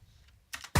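Computer keyboard keys tapped in two quick, close bursts, the second sharper and louder, with no talking.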